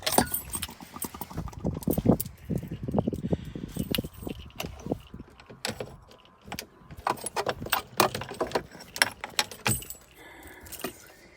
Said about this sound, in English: Let's try to turn the key, see if we got juice.